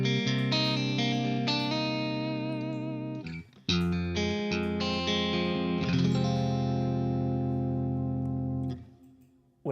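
An electric guitar plays sustained chords through a Quad Cortex with compressor and reverb, a smooth, compressed tone and a reverb tail, pausing briefly before ringing out again.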